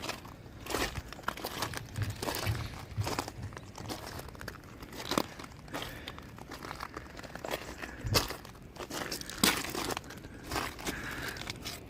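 Pebbles on a beach crunch underfoot during a coastal walk, a steady run of close, crisp footsteps with sharper crunches scattered throughout, no voices.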